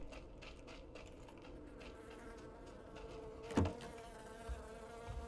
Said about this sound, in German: Alter, diese Fliege, ne?